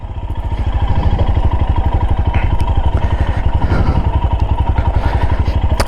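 A Royal Enfield Himalayan motorcycle riding along an empty road toward Pointe du Raz, its engine thumping in a steady, loud, close rhythm with road clatter underneath.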